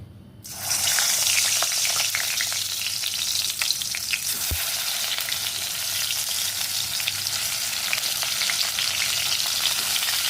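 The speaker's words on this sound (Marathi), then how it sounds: "हा आपला मसाला भरून ठेवलेले वांगे आता हे तेलात सोडायचे" Masala-stuffed brinjals drop into hot oil in a pan and fry with a sudden loud, steady crackling sizzle that continues throughout, close up, with occasional spatters and no talking.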